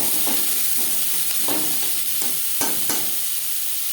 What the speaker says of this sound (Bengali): লঙ্কার সাথে পেঁয়াজ বেশ ভালো করে মিক্স করে দেবো।